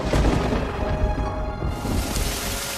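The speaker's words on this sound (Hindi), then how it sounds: "अरे देखो, बारिश शुरू हो गई।" Rain and thunder start up in a cartoon story: heavy rain hisses steadily with deep rolling thunder rumbling underneath, loud and alone.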